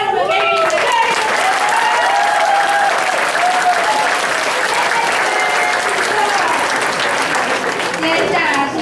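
A church audience at a gospel concert claps in sustained, dense applause that fills the whole stretch at a steady level, with a voice speaking over the clapping.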